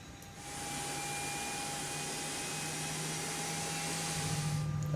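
A JARDesign A320's engine 1 spools up in X-Plane 11, a steady rising whine with a thin high tone over a constant rushing hum, moderately loud and unbroken, no voices.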